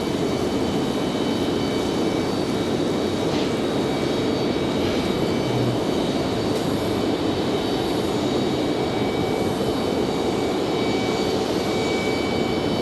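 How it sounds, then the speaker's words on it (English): American Airbus A321 jet taking off at Raleigh-Durham airport, a loud continuous roar of engines with a broad rumbling hiss, steady and sustained, no voices. "American 2390 clear, so that's our A321 over there."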